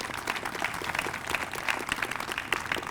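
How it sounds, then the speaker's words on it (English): Crowd applause at the grand opening of a STEAM education center, a dense, continuous round of many people clapping at fairly close range, steady throughout. "let's give him a round of applause as well"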